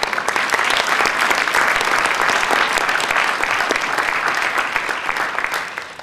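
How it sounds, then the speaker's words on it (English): Steady, loud audience applause fills a room at an awards breakfast, dense clapping from many hands sustained throughout before easing slightly at the end. "let's give Ann a round of applause"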